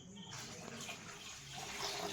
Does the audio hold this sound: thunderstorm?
no